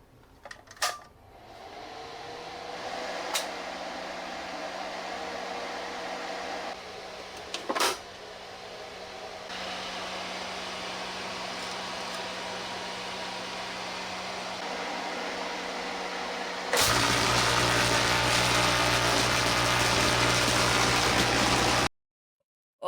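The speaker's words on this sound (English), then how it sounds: "Ah yes, there's that angry hot plasma that my puny little arc lighters couldn't give me." A homemade plasma arc device powered by a salvaged microwave-oven transformer runs with a steady loud buzzing hum and crackle, growing harsher and louder near the end before cutting off abruptly, with no talk over it.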